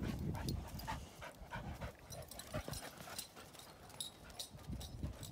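Dogs scuffle and pant nearby, with quick paw scrapes, thumps and soft whimpers as they romp together in short bursts of activity.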